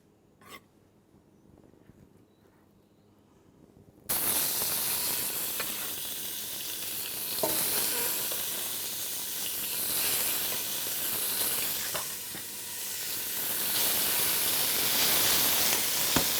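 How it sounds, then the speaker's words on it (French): Fish portions browning in a pan for a curry: a quiet start, then a loud, steady sizzle bursts in and holds, crackling and hissing with slight swells and a few scrapes, no voices. "les portions de poisson dans ma casserole. 2 à 3 minutes à faire rissoler"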